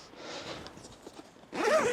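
A zipper on the fly screen of a 2012 Track Trailer Tvan Murranji Mk3 camper trailer is drawn quickly, a quiet rasp first and then a louder, brighter zip, close by.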